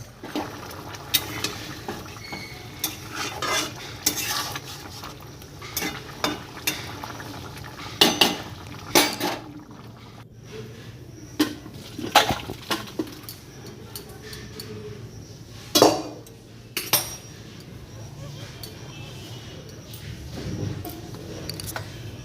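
Cooked hilsa fish curry with taro, the fish fried first, is tipped out of a metal pan, giving scattered clinks, scrapes and knocks of utensil on pan at an uneven rhythm over a quiet kitchen background.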